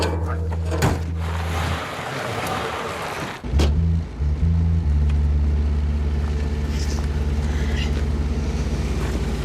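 A car engine idles steadily with a low, continuous rumble that fills the scene after a brief interruption, as the exhaust is being worked on at a roadside stop; people talk nearby over it.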